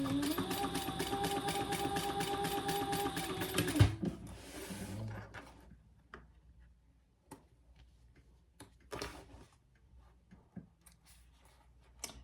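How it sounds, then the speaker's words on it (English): A sewing machine stitches a cork wallet near the card slots, running in a fast steady mechanical rattle for a few seconds before stopping, followed by faint clicks and handling sounds. "And stitch just underneath the second card slot."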